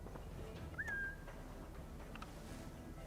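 A single brief rising whistle in Assassin's Creed Valhalla, a short faint tone over a murmuring game background.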